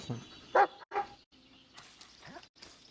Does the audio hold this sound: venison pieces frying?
no